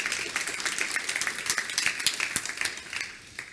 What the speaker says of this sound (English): The clapping is very validating